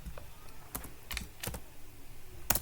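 Code being typed on a computer keyboard: sparse, close key clicks at an uneven pace with short pauses, including a few sharper presses, during a coding lesson.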